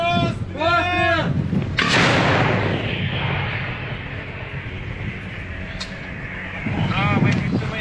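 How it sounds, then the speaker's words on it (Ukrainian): A Ukrainian tank gun fires with a deep, booming blast that rolls and echoes outdoors amid wind noise, with a voice shouting a firing command just before. "Постріл!"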